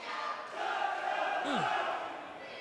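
A wrestling crowd at a title match in Pittsburgh roars in a sustained, even wash of noise, with a brief rising-and-falling whistle-like call cutting through midway.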